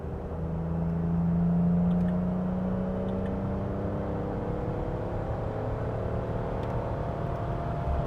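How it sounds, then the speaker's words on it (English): A Ford Explorer Sport Trac ute engine while driving, a quiet, smooth, steady hum with a low drone that holds an even pitch throughout. "For being a truck, this thing actually shifts pretty smoothly. The engine is actually surprisingly quiet as well."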